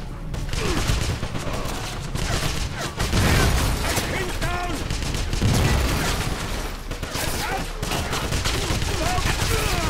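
Sustained gunfire in the Wolfenstein video game, dense bursts of automatic fire and explosive booms that barely pause, with voices shouting underneath.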